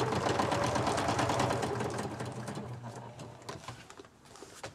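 A sewing machine stitches through a paper-bag mini journal, a fast steady mechanical whir with a low motor hum, strong at first and then fading into softer, intermittent running.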